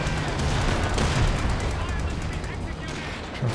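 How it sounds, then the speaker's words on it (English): Rapid small-arms and machine-gun fire with heavier booming shots in the Company of Heroes 2 video game, rounds hitting a Panzer IV tank in a busy, continuous battle din. "Bouncing a lot of shots on this Panzer IV, though."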